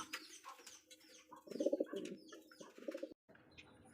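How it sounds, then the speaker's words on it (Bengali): Rajgolla pigeons cooing nearby, a throaty rolling burst of coos with a few faint chirps and rustles around it, ending in a brief gap and a quieter tail, no talk. "দেখতে পাচ্ছি এখানে অসাধারণ একজন কবুতর মাশালা একদমই কিন্তু রাজগোল্লা কবুতর"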